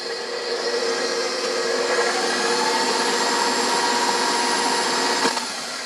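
An electric mixer whirs steadily for several seconds, beating lemon juice into gluten-free blueberry lemon crumbcake batter, with an even hum and no talking.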